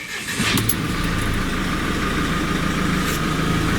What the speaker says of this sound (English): Like all diesels, when they're idling, they're rattly.